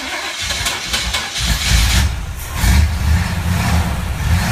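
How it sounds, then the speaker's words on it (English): A small propeller plane's engine catches and settles into a steady, loud running drone, rising in level a couple of times as it takes hold, with no talk over it. "Now we got the engine started. You see the propellers running."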